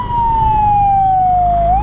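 The siren of a Honda ST1300PA police motorcycle wails loud and close, one long tone gliding slowly down in pitch before sweeping back up at the end, with a low engine rumble beneath.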